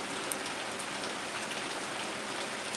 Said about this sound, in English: It's pouring like crazy here, bro.